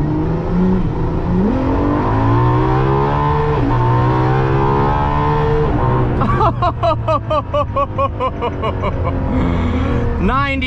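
Ferrari LaFerrari V12 floored hard in sport mode with automatic shifting, a loud close engine roar climbing steadily in pitch, then a sharp upshift and renewed rising wail with rapid harmonic sweeps toward 9,200 RPM.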